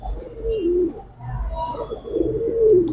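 Pet pigeons coo close by in a few soft, throaty rolling phrases with a short pause between them.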